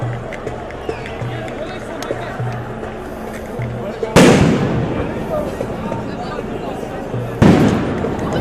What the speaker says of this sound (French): De nombreuses explosions, je ne sais pas si vous entendez bien